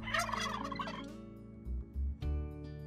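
Turkeys gobble on a farm, one loud rapid warbling gobble followed by a steady hum broken by low thumps.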